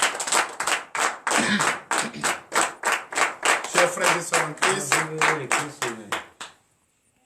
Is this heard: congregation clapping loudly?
yes